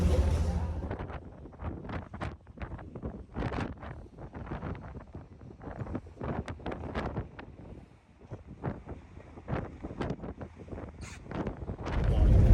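Wind buffets the microphone in uneven gusts aboard a ferry sailing to Port Angeles, with a steady low rumble underneath and a voice speaking at times through the noise.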